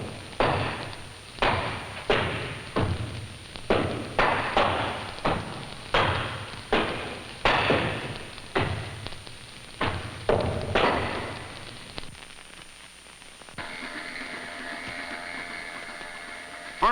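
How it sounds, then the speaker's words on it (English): Pile driver hammering huge wooden piles into the sandy bottom of a bay, heavy rhythmic thuds repeating about once a second for a long stretch, then stopping as a steady mechanical drone continues. "The pile driver hammers the huge wooden piles into the sandy bottom of the bay."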